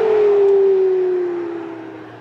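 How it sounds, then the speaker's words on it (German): A car engine blips its throttle while double-declutching on a downshift, heard as a loud, smooth engine tone that sinks steadily in pitch and fades over two seconds. "Zwischengang beim Runterschalten."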